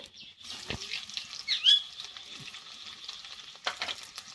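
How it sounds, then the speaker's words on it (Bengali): Crushed garlic frying in hot oil with black cumin and whole cumin seeds, a soft steady sizzle with a few brief clinks and scrapes of stirring, close by and fairly quiet. "রসুনটা হালকা ভাজা হয়ে গেছে।"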